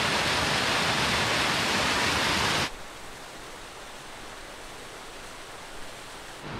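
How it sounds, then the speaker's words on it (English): Loud, dense rush of falling water roars up close, then cuts abruptly to a much quieter, distant wash for the rest. "Well, that's a waterfall."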